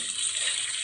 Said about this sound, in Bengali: এই যে লাল শাকগুলো আমি ওয়াশ করে নিচ্ছিলাম